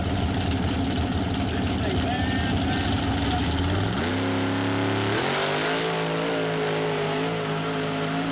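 Mud truck racing in the gearbox outlaw class at Mud Truck Madness 2013: a loud, nearby engine drones, then revs up sharply and holds a high, strained roar through a fast run, with a rough, heavy exhaust tone throughout.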